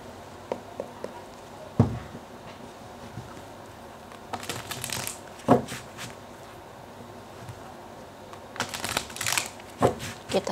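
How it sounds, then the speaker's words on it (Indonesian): Tarot cards being shuffled by hand, with two loud riffling bursts among soft taps and card handling and no talking. "terutama ketika aku shuffle kartu ini"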